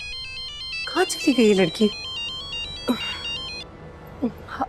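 A phone ringtone repeats a steady electronic melody through most of the moment, with a voice speaking over the early part and a brief remark later.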